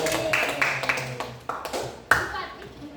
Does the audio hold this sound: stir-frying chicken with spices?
no